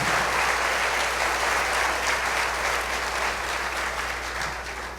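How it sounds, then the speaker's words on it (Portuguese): A church congregation claps in praise, a loud, full burst of steady applause from many people filling the sanctuary, tapering slightly toward the end. "Vamos aplaudir o Senhor Jesus."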